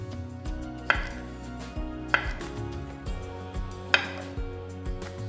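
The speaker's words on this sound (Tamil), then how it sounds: "இதை பாதியா நடுவில் நறுக்கி அதை சின்ன சின்ன பீசஸா கட் பண்ணுங்க." A knife chops two large fresh cucumbers into small pieces on a cutting board, with about a dozen crisp, fairly regular knocks and a few louder strikes, close by with no talking.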